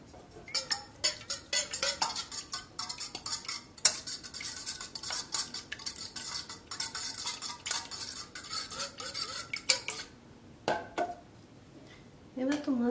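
A utensil scrapes and clinks against a dish while a pasta casserole mixture is stirred, with busy, continuous metallic rattling that pauses briefly near the end. A voice speaks at moments over it.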